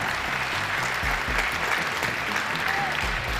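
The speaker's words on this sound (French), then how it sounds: "Florian, on l'applaudit." A crowd claps steadily for contestants on stage at a game show, a close, even patter of applause holding throughout with no talk over it.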